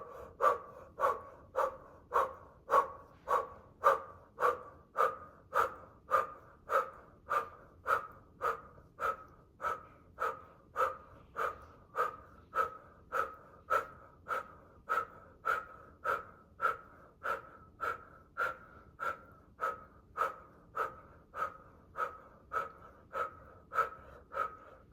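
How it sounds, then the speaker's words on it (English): Rapid rhythmic breath of fire during a Kundalini kriya, pushed through an O-shaped mouth: about thirty-five sharp, evenly spaced puffed exhales at a steady pace, close and fairly loud, with no talking. "you can do a breath of fire, or if you want to take it further, you are gonna breathe through the O shape of mouth"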